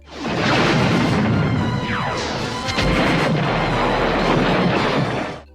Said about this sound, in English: And a cannon with a firing missile.